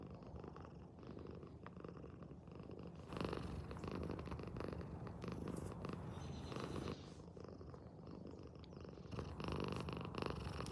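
A pet cat named Cinnamon purring softly and steadily while being stroked on the head, a low, continuous rumble close to the listener, with no voices.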